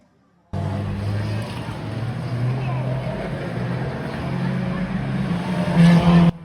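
Stock cars race at Cowdenbeath Racewall, engines roaring in after a moment of silence and droning steadily close by, swelling louder near the end as cars pass.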